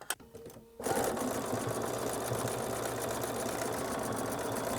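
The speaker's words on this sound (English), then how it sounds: "I'm going to start off, stitch all the way, and come off again." A sewing machine stitching a 5/8-inch seam in fabric for a drawstring bag starts after a brief quiet moment and then runs steadily and close by, with no pauses.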